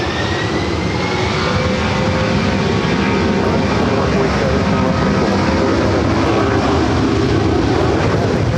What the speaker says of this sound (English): Another E-jet touching down and 24 right.